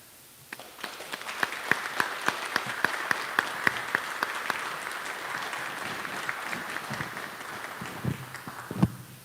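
Audience applause at a business hall of fame ceremony, beginning with a few sharp, distinct claps and swelling into a steady crowd of clapping that tapers near the end.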